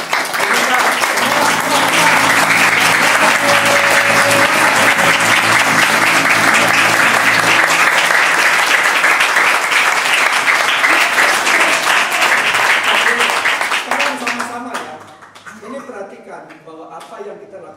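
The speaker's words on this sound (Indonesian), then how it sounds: "Hai segala bangsa, bertepuk tanganlah, elu-elukan Allah dengan sorak-sorai." A large church congregation claps hands together in a loud, sustained burst of applause that runs for about fourteen seconds, then fades to scattered claps and quiet.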